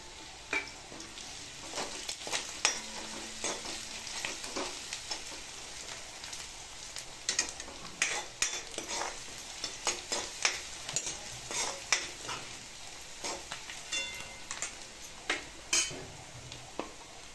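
Garlic sizzling and frying in a pan for a potato and spinach dish, with irregular scraping and clinking as it is stirred, a soft continuous crackle under repeated spoon strokes, no talking.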